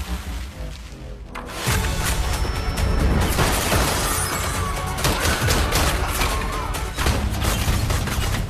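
A burst of rapid gunfire erupts in a film scene, loud, dense shots and booms following a quieter opening, continuing with scattered impacts and crashes.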